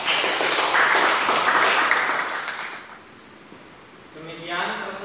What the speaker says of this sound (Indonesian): kita beri tepuk tangan ya untuk Mas Gunawan